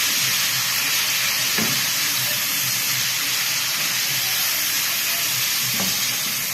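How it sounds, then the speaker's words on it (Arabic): Beef liver and garlic fry in hot oil, giving a steady, loud sizzle with a constant hiss. A couple of faint stirring knocks come through, and there is no talking. "انا هنزل عليه بالثوم. واقلبه بقى كده مع الكبده."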